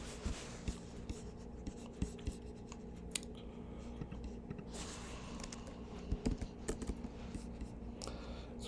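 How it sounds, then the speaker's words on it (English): Keystrokes from a computer keyboard as a search is typed, light scattered clicks and taps at a fairly close, quiet level, with irregular rhythm and a few sharper hits over a low steady room hum. "You just type in family counseling and you type in your city."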